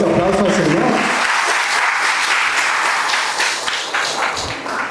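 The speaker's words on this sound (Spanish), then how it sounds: "Den un fuerte aplauso al Señor." A church congregation breaks into loud, dense applause during a service after a song, a full wash of clapping that carries on steadily with a voice faintly underneath.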